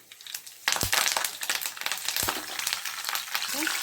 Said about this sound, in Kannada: ಸೊ ಸಾಸಿವೆ ಜೀರಿಗೆ ಹಾಕ್ಕೊಂಡಿದ್ದೀನಿ. ಕರಿಬೇವು ಹಾಕ್ಕೊತಾ ಇದ್ದೀನಿ.